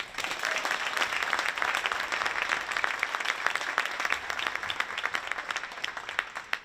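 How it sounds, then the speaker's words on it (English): Audience applause for three departing seniors at a Maumee versus Eastwood high school basketball game, steady dense clapping filling the gym at a constant level throughout, with no voices over it. "One more round of applause for all 3 seniors who have left an incredible mark on this program."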